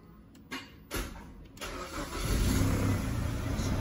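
A Peugeot 807 with heavy exhaust smoke is cranked and starts after a few short clicks and hesitant bursts, then settles into a steady, close idle that rumbles on alone.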